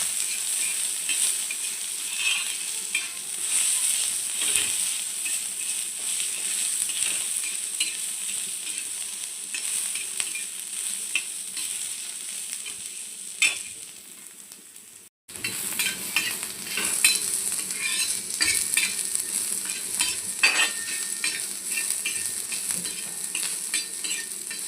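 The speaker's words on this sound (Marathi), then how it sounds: "छान असा गोल्डन थोडासा काळसर आपल्याला कांदा हा भाजून घ्यायचा आहे" Onion frying in oil on a flat tawa, stirred continuously: a dense, close sizzle with frequent scraping and clinking strokes of the spatula, briefly cut off midway before resuming just as steadily.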